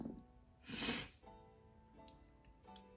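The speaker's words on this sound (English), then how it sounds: "Excuse my sniffling. My allergies are so bad." A single close, breathy sniff through the nose, short and soft, followed by quiet background sound.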